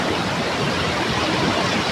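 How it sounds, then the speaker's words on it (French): Continuous broadband rushing of flowing streams, steady and fairly loud, with no voices, recorded on a smartphone plug-and-play microphone. "là on entend bien les ruisseaux"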